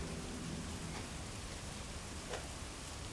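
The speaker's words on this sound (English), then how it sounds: "starting to rain" Rain begins falling outdoors near a small sawmill, a broad, steady hiss of light drops close by with no voices.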